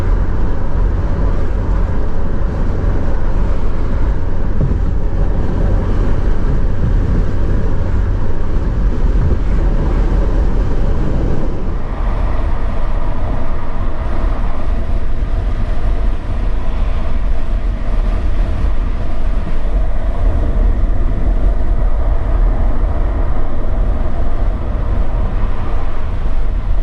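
Steady, loud interior road and engine rumble from a 2011 Range Rover L322 with the 4.4 TDV8 diesel while driving, a dense low drone with broadband wind-like roar that shifts slightly midway, with no talking.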